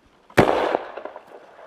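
An airsoft grenade goes off during a field test: one sharp, loud blast bursts out suddenly, then tails off into a short rumbling, crackling decay with a few smaller pops as it fades.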